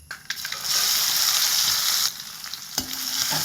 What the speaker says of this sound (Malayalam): വറ്റൽമുളകും ഉള്ളിയും വെളുത്തുള്ളിയും ചതച്ചതാണ് ഇതുകൂടി ഇട്ട് കൊടുക്കണം.